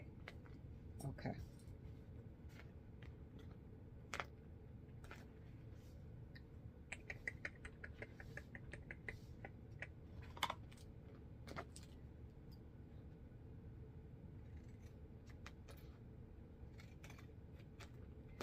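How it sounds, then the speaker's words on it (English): Scissors snipping through fabric while cutting bra cups: a series of small, close clicks and snips, quiet against low background noise. "Now we're going to cut."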